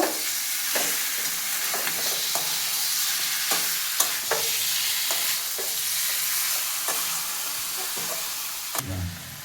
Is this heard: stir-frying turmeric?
yes